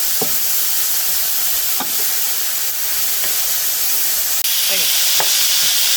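Mushrooms sauté in a hot pan for mushroom barley soup, a loud, steady sizzle and hiss running throughout with a few soft stirring knocks close by.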